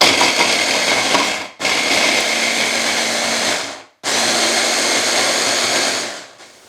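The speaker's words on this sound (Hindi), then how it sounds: "तो चलें मैं इसको भी ग्राइंड कर लेती हूँ।" Electric grinder blending fresh marinade ingredients for Pakistani chicken malai tikka boti, a loud steady whirring motor run in three bursts with brief pauses between, no talking.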